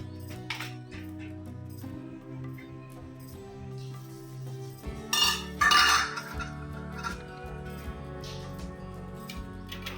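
A pot of washed rice is set down on a home kitchen stove, with clinking metal and a burst of clattering utensil and pot knocks in the middle, close and moderately loud over a low background hum.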